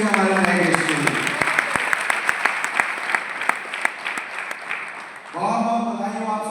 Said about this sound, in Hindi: तो एक जोरदार तालियां होनी चाहिए हमारे नए गेस्ट के लिए।